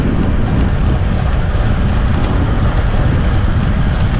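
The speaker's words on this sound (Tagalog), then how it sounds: "Umaambunan pa yan." Light drizzle on a bicycle ride on a long Mt. Makiling loop, heard as a continuous broadband hiss mixed with wind rush, steady and fairly loud, with no talking.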